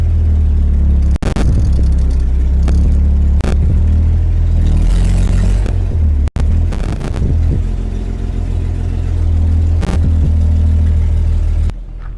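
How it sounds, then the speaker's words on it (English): A 75-year-old 1950 farm truck engine drives along and is double-clutched through the gears, a loud, steady, close mid-pitched engine drone with brief revving swells and clunks at each shift and no talk. "Not bad for a 75-year-old truck"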